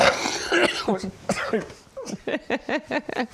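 A few short, sharp coughs come in quick bursts, close by, following a brief stretch of voice.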